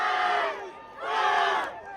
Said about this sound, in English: Crowds gathered in public places across the continent's big cities to ring in the new year